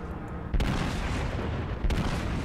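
Heavy guns firing in the naval battle video game World of Warships, with Tirpitz named: two deep, booming shots a little over a second apart over a constant low rumble of battle noise.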